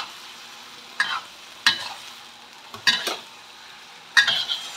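Fried anchovies stir-fried with banana blossom in a pan, four distinct scraping stirs of a spatula, each with a short crackle, spaced about a second apart over a quiet background sizzle.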